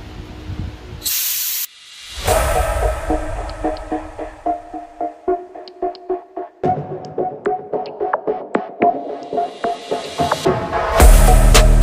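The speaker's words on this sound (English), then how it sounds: "Crack the bleeder valve as I squeeze the trigger, and hopefully we get fluid." Brake fluid hisses from a cracked bleeder valve on a New Edge car as a trigger is squeezed, a rhythmic series of short spurts and clicks after loud bursts of spray at the start and end.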